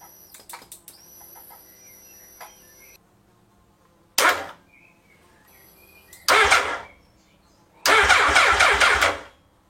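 Hayabusa turbo engine fitted in a Monkey bike cranking over in three separate loud bursts of starter and engine roar, each cutting off abruptly, after a stretch of quieter mechanical clicks and rattles.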